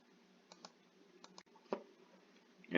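Several light key clicks tapped on a calculator keypad while entering a math expression, coming in small spaced pairs and single taps, quiet and close with a slightly louder tap near the end.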